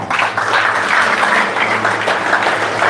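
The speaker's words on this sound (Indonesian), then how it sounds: "Tepuk tangan." Congregation applause during a healing service in a ballroom at Langgur, loud and close, a rolling mass of clapping hands with a steady low hum underneath throughout.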